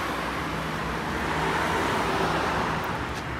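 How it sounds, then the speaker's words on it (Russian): Steady road traffic from cars driving toward Simferopol along a seaside road near Alushta, Crimea, a continuous broadband wash of tyre and engine noise at moderate distance with no distinct single pass. "а эти машины едут в сторону Симферополя"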